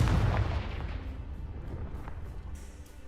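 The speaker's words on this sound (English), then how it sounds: "Do I set you on fire? Confringo." Casting the Confringo fire spell in Hogwarts Legacy sets off a loud, booming blast right at the start, which rolls off into a fading rumbling crackle over the next few seconds.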